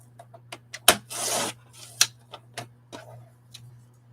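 Rough edge being trimmed off a piece of wood, heard as close scraping and rasping strokes with a longer rub near the middle and scattered sharp ticks, all over a low steady hum, with no voices.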